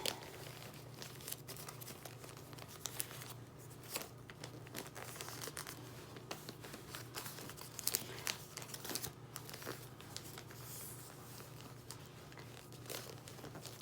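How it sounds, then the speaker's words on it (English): Wrapping paper folded around a gift box gives faint, intermittent crinkles and soft rustles, with quiet handling noises and no talking. "Now I am going to fold the sides in."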